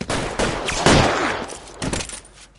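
Gunfire from the LA Noire video game: a quick string of sharp shots and bursts over about three seconds, fairly loud and without talk.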